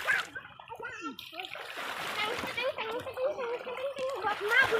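Water splashes and trickles as several people bathe together outdoors, the splashing continuous and close under steady overlapping talk, including children's voices.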